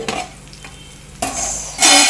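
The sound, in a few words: stirring broad bean and tomato curry in a pan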